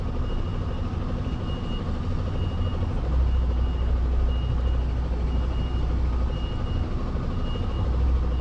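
A truck reverses while shunting around a tight turn, its engine rumbling steadily close by as a faint backup beeper repeats at an even pace throughout.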